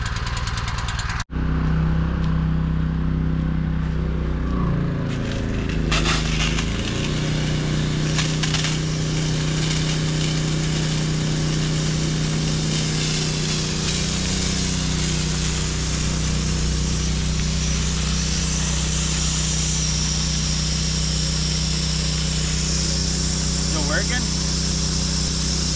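A 5-horsepower Honda gasoline water pump engine starts with a pull and then runs steadily at a loud, rattly drone, with a voice speaking briefly over it.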